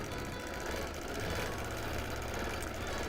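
A sewing machine doing free-motion quilting of a scallop pattern runs at a steady, fast, even chatter, a quiet continuous whir with no breaks.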